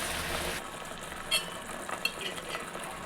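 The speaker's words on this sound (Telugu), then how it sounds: "అందులోనే కొంచెం కరివేపాకు వేసుకోండి అలాగే చిన్నవి రెండు బిర్యానీ ఆకులు వేసుకున్నాం" Curry leaves and small bay leaves hit hot oil with sliced onions for a kurma, giving a steady close sizzle that drops slightly after a moment, with a few light stirring clinks.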